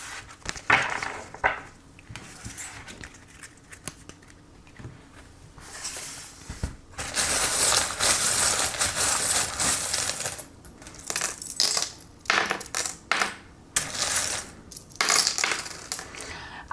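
Small metal charms are cast and tumble with clinking, rattling bursts that stop and start, some long scattering spills and some short drops. The sound is close, with no speech.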